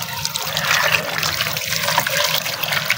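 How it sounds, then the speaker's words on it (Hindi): Water is poured onto clay and stones at close range, a steady splashing trickle running continuously. "अब हम करते हैं दोनों में पानी पोरिंग"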